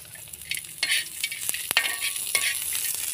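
Ground coriander masala and peanuts dry-roasting in a pan, a steady faint hiss with scattered sharp crackles and a few scraping stirs, no voices.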